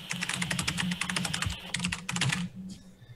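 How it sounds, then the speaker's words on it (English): Rapid computer keyboard typing heard over a voice chat, with dense clicking keystrokes in quick bursts, a brief pause, then more typing before it trails off, with a low hum underneath. "If you also mute yourself so I can stop hearing your keyboard"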